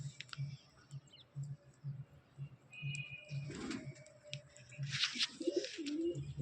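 Pigeons coo softly in a steady rhythmic pulse, the birds kept as a hobby flock, with brief chirps and rustling rising toward the end.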